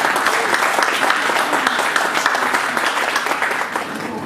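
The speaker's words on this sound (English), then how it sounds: "a big round of applause and congratulations to Vinod." An audience claps for speakers coming on stage at a ten-year anniversary event, a dense, sustained burst of many hands applauding loudly and close, tapering slightly at the end.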